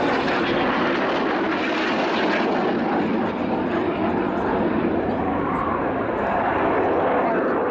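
Red Arrows RAF display jets at RIAT 2015 roar loudly and continuously while flying opposing 360-degree 6G carousel turns, a broad, steady engine rumble that fills the whole stretch with no pause.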